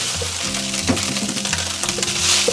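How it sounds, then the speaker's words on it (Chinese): Leftover rice and diced luncheon meat stir-fry in a pan over medium-low heat, a steady close sizzle with scraping stir strokes throughout and no talking. "然后炒的话就中小火炒哈，先给它炒散"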